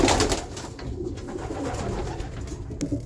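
Pigeons coo steadily against a rustling, noisy background, their low soft calls repeating throughout without pause.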